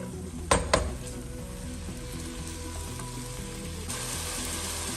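Red chili sauce and vinegar being stirred into restaurant-style chicken and vegetable fried rice, a steady close sizzle with a sharp clank of utensil on pan near the start.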